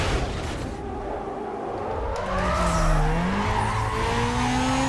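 A car engine in Need for Speed Carbon revs with a rising, wavering pitch while tires screech in a long skid, growing louder toward the end.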